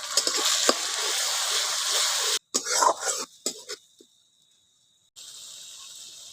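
Tomato paste fries in a pan with ginger, garlic and onion, giving a steady, bright sizzling hiss. The hiss breaks off, returns in uneven bursts, drops to near silence, then resumes more faintly.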